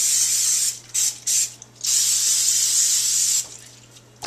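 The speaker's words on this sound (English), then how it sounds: "and we need to spray them with cooking spray." Cooking spray is sprayed into loaf pans for pumpkin bread, in several short hissing bursts followed by one long steady spray, close and fairly loud.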